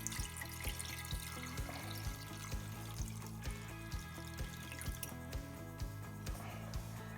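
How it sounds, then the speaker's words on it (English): Water drains from the pump filter of an old Bosch washing machine, a faint steady trickle punctuated by regular, evenly spaced drips throughout. "This will take a few times to get rid of all the water that's inside the drain pump."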